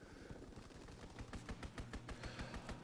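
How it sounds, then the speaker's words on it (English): A fighter plane strafes with gunfire in a Call of Duty video game: a rapid, even run of loud gunshots that builds over a few seconds, with no talk. "Strafing the target."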